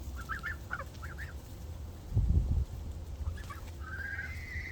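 Chickens cluck and call in short bursts close by, with a soft rustling scuffle in the middle and a longer rising call near the end, over a quiet outdoor background.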